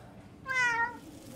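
A cat gives a single clear meow with a rising-falling harmonic tone lasting about half a second, fairly close and alone over quiet background noise.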